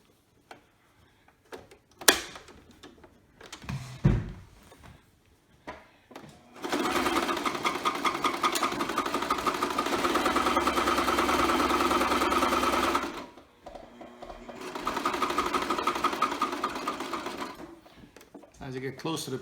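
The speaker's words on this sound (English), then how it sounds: "Now we're about to start to sew the mask." Sewing machine stitching a fabric face mask, running in two long steady bursts of rapid rhythmic clatter, close and loud, separated by short pauses, with a few handling knocks and bumps before it starts.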